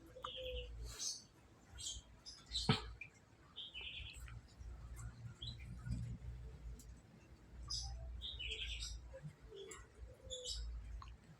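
Young canary chicks chirping in short high peeps, scattered in small bursts with quiet gaps, fairly faint and close, over a low background rumble.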